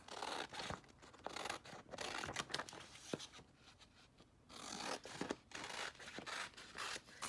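Scissors trim excess printable heat transfer vinyl in a craft session, giving quiet, close snips and crinkly plastic rustling in irregular bursts with brief pauses.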